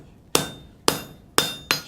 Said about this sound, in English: Start hammering back towards ourselves.